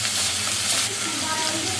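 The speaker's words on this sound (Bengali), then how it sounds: "এগুলো ভেজে নেব।" Fish rubbed with salt and turmeric fry in hot oil, a loud, continuous sizzle and crackle held close to the pan.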